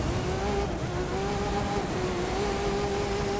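The engine of a rally-spec car in the racing game The Crew 2 drones steadily at the start of a race on snow, with a loud, even tone held throughout and no talking.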